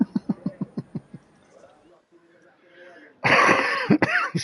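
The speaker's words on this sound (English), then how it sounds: "I did not mean to cough into your ear." A burst of about eight quick, close coughs in a row, followed after a brief pause by someone speaking.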